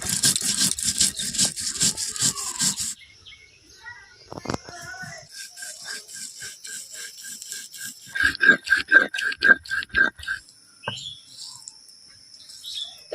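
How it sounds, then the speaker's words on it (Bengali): Green chillies, turmeric powder and salt are ground together into a spice paste for rui fish paturi, with rhythmic scraping and rubbing strokes that come in bursts, sharper and busier at the start and again near the end. "এই সমস্ত কিছু আমি একসাথে খুব ভালো করে বেটে নেব।"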